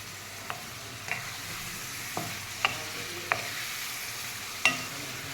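Masala with chicken and tomato fries in a pan for chicken fry, a soft steady sizzle punctuated by six distinct spoon scrapes and taps spaced about a second apart; no speech.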